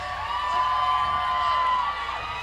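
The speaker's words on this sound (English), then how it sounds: "Hey fans, if you're here for the Bombshells, let's hear a cheer." Fans of the Bombshells roller derby team cheer from the stands, a sustained broad wash of crowd noise with whoops and shouts holding steady throughout the short burst.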